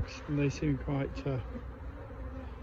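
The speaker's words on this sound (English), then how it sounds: "Lots of bees in the box" Honey bees buzzing in a hive box at an apiary, a steady close hum with a few louder swells, under a voice speaking briefly.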